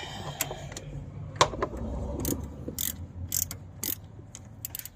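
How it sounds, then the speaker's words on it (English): Ratchet tightening bolts on a 1999 Kia Sportage, with quick clicking pawl bursts and irregular clanks and taps from nearby work, moderately close with no talk. "Now I gotta tighten these bolts up."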